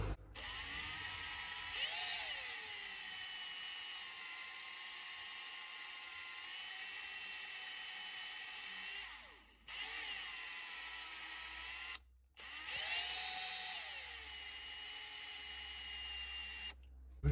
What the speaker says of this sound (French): J'ai l'impression que c'est la perceuse qui fait tout